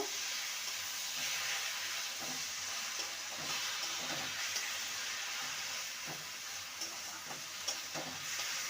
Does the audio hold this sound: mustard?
yes